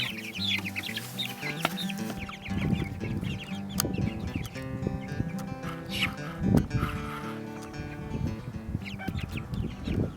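Meat King chicks cluck and cheep in an outdoor pen, producing a busy overlapping chorus of close and mid-distance peeps and clucks that rises and falls continuously.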